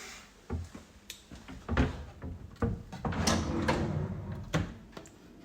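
Drawers in a rental flat being pulled open and pushed shut, a series of close wooden slides and knocks at irregular intervals, with no talk over them.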